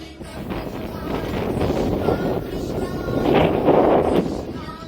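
Strong wind with rain sweeps across open farm fields during a storm, a rushing roar buffeting the microphone that swells louder toward the end, with a voice faintly underneath.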